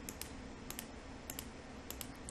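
Sharp computer mouse clicks while working in Scrivener writing software, about five brief, distinct taps spaced irregularly over a low, steady room hum, with no talking.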